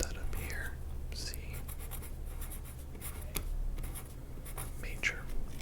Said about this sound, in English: So let's write that up here.